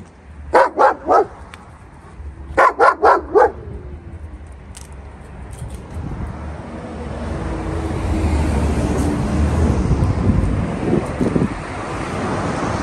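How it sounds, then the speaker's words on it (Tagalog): Two short bursts of deep barking, three or four barks each, followed by a growing rush of wind noise. "So, may malalaking aso sa labas na yan."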